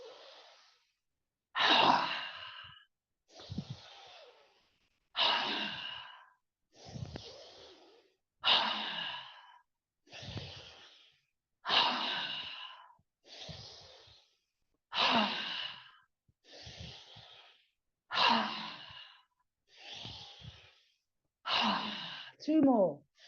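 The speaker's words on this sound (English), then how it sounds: "we take a big breath in through the nose, a big sharp breath in as we come up, and as we come down and we bounce down, we make the silent roar and let it all out" Qigong breathing exercise during a yoga session: about a dozen cycles of sharp nasal inhalations followed by forceful, breathy exhales, close and loud, evenly spaced every couple of seconds with silence between.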